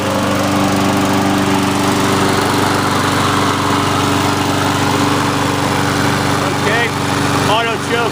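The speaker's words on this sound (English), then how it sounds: "We'll fire it up here, and we'll go ahead and get this thing started up here for that." A Briggs & Stratton engine with an automatic choke runs steadily and loudly, close by, with a constant droning hum throughout and brief voices near the end.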